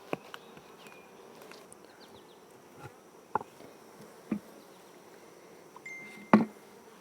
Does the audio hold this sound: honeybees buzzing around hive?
yes